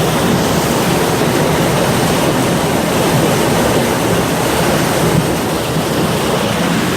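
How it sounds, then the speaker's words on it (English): Water rushes through a grate in a steady, loud, broadband roar that stays constant from start to finish, close to the microphone and with no voices over it. "you can just hear the water."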